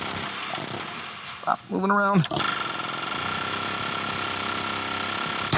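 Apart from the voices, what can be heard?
pneumatic air hammer working on Jeep Wrangler axle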